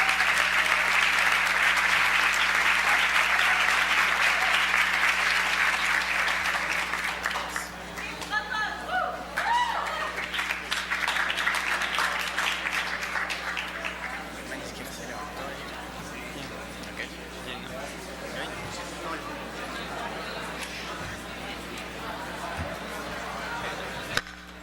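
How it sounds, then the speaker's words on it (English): An audience applauds a second-place competition finalist, sustained dense clapping for several seconds that thins out into scattered claps with murmuring voices and a steady background hum. "Give it a applause"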